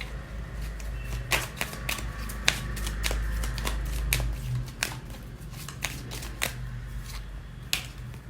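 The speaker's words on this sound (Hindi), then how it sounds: "सो अब हम कुछ एंजल्स के कार्ड निकालेंगे।" Angel oracle cards are shuffled and drawn by hand, giving close, crisp riffling flicks and snaps at an irregular pace over a faint low hum.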